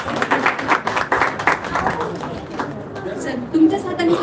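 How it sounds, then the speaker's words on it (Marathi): Applause at a state-level poetry gathering and awards ceremony, a burst of hand clapping from the audience mingled with crowd chatter and an announcer's voice, the clapping swelling again near the end. "जोरदार टाळ्या होऊन जाऊ द्या"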